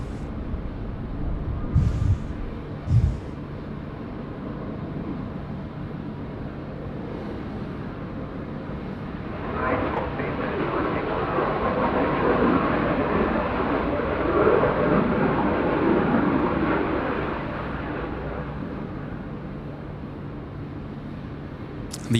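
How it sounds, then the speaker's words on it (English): A Royal Australian Air Force Dassault Falcon 7X jet taxiing at Sydney Airport, a steady mid-distance engine whine and rumble that swells gradually and holds, with a couple of brief knocks near the start. "The Royal Australian Air Force, the RAF Falcon X. 7 X-ray, beautiful."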